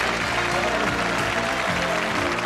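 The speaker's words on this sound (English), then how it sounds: "Nice round of applause." A television game show studio audience applauds in a continuous, fairly loud round of clapping, with voices and music mixed underneath.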